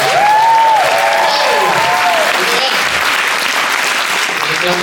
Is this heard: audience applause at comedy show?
yes